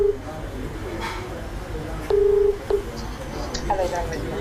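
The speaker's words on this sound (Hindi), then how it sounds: "हमारे संवाददाता अभिषेक आनंद ने दिल्ली के 14 सरकारी और प्राइवेट अस्पतालों में फोन किया" Telephone keypad tones sound while calling hospitals in Delhi: a few short beeps and one longer tone over a hum of background noise.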